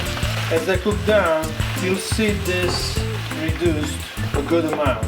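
Broccoli rabe cooking down in a hot pan gives a soft, steady sizzle underneath someone talking, with occasional clatters of stirring or turning the greens.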